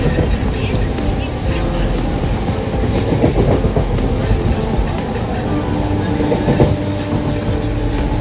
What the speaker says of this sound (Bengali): ট্রেনের স্পিড এখন হু হু করে বাড়ছে